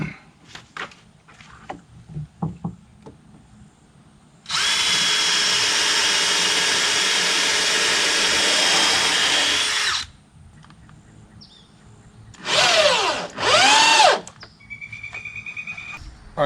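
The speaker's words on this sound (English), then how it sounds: "let's drill the other side" Power drill boring into the side of a DIY above-ground grow box: a short burst, then a steady loud whine for about six seconds, stopping, followed by two brief higher-pitched revs, close by with light handling noise between.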